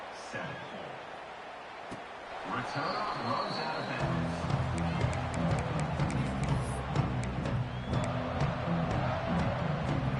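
Football stadium crowd roaring and cheering as a broadcast game plays, a dense sustained swell of many voices that rises after a few seconds and stays loud with scattered shouts.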